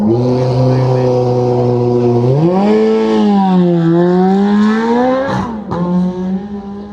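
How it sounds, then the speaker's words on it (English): Supercharged Lotus Elise racing at a hillclimb, its engine holding a steady loud note that rises in pitch, dips, then climbs again under heavy load, with a sharp shift or lift near the end and a voice speaking over it. "this is the supercharged engine version of the Lotus Elise."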